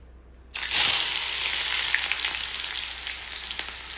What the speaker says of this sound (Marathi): कांदा, मिरची आणि टोमॅटो टाकून घेतलेला आहे तेलामध्ये.